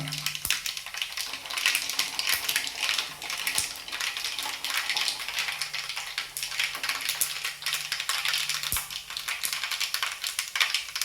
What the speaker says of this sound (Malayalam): അങ്ങനെ കടുകെല്ലാം പൊട്ടി.